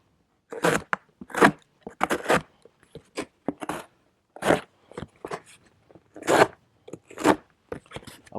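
Knife blade of 8Cr13MoV steel on a Schrade SCH406 slicing through a cardboard box: a string of short, rasping cuts in an irregular rhythm, close and fairly quiet, with silent gaps between strokes.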